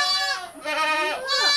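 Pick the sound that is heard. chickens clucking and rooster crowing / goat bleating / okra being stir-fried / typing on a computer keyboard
goat bleating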